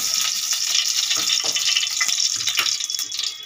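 Oil hisses and sputters in a hot wok heated for frying amudi fish, a bright close crackle with uneven pops, easing slightly toward the end.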